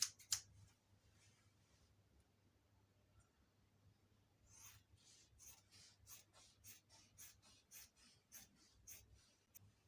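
Scissors cut through fabric along a pattern line for a Senator native top, making a series of quick, close, crisp snips that speed into a steady rhythm in the second half, with soft rustling between cuts.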